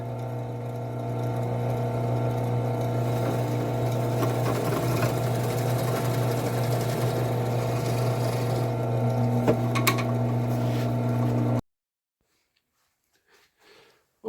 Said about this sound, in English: I'm recessing my holes here for my screw heads.